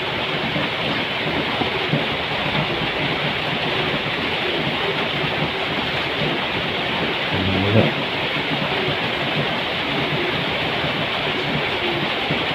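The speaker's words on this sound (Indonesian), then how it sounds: "Di luar masih hujan ya teman-teman ya. Suaranya udah kedengaran dari sini." Steady rain falls outside a house, a dense, unbroken hiss that stays even and moderately loud throughout, with no voices.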